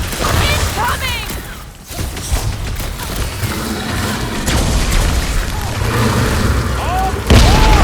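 Heavy booming blasts and crashing debris from a fight against a jelly-eating creature in Guardians of the Galaxy, loud and sustained, with a sharp new burst near the end.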